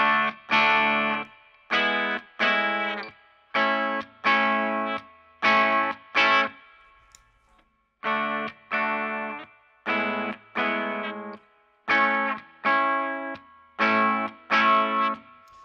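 Guitar played through a Fishman preamp with its treble tilt feature engaged rings out in repeated strummed chords, loud and close, in two groups of even bursts with a short pause between them and no talking.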